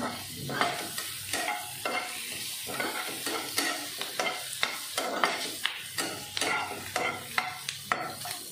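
Okra frying in a pan for bhindi do piyaza, with a continuous sizzle broken by regular stirring scrapes close by.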